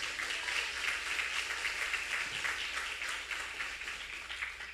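Applause from a church congregation during a sermon, a steady broad wash of clapping at moderate level with no speech over it.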